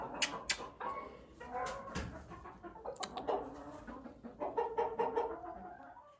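A chicken at an old farmhouse in the Umbrian countryside clucks in short, faint, irregular bursts that come and go amid light background noise.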